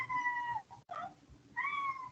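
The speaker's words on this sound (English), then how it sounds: "That's my black cat." A black cat meows twice at close range, a drawn-out cry, a short break, then a second rising meow, in a quiet room.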